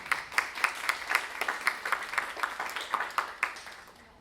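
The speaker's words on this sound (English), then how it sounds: "If we can give them a round of applause." Applause from an audience at a press conference on Afghan refugee youth mental health: a few seconds of steady, moderately loud clapping with crisp, evenly spaced claps that fade slightly toward the end.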